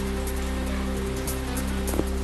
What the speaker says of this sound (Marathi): पुण्यात विजांच्या कडकडाटासह जोरदार पावसाची हजेरी।